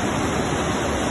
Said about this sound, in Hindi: आप देख सकते हैं पानी बहुत तेजी के साथ बेसमेंट की तरफ भरता हुआ।